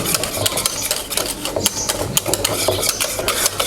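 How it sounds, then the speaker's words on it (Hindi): Gram flour batter is stirred vigorously in a pot with quick, repeated scraping and clacking strokes in an uneven rhythm, loud and close, with a faint sizzle behind it. "बेसन डालने के बाद हम फिर इसकी अच्छी से मिक्सिंग कर रहे हैं।"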